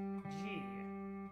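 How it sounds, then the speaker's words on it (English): An open G third string on a guitar keeps ringing softly in the background while a voice talks over the middle of it. "Third string plays G."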